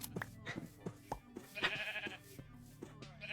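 Minecraft sheep bleating repeatedly in short, close bleats, several overlapping calls in quick succession with other small game sounds between them.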